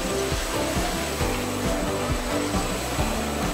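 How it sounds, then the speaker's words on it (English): Film packaging machine with inner and outer double winders running together, giving a steady, loud mechanical whir with a regular low-pitched rhythmic pulse of roughly two or three beats per second throughout. "this is the inner winder and also the outer winder, double winder working together"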